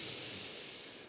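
A single steady inhale through the nose during a group breathing exercise at a live event, a soft airy hiss lasting about a second, close and alone.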